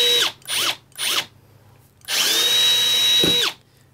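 A Milwaukee 2872-20 M18 brushless threaded rod cutter whirs in three short, sharp bursts, then runs in one longer motor whine cutting all thread rod, close up and loud with quiet gaps between.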